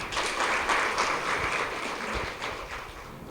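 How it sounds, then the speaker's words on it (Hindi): An audience claps together at a welcome gathering in Haridwar, a dense, steady applause that runs the whole time without letting up. "आप सभी के लिए एक बार ताली बजाइए।"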